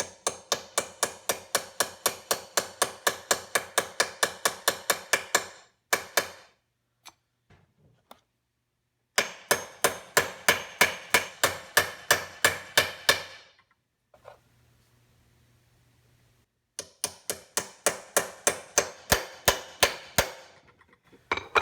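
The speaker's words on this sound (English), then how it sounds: "Lightly tap it with a hammer." A hammer lightly taps a U-joint cap on a Chevrolet Silverado in a rapid series of sharp metallic taps in three bursts, evenly paced and close up, separated by brief pauses with a faint low hum.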